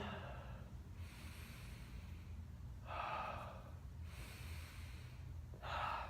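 Slow, deep breaths during a hip stretch for hip impingement, taken while holding a squat mobility position: three or four breathy exhales a few seconds apart, soft and close, with a faint low background hum.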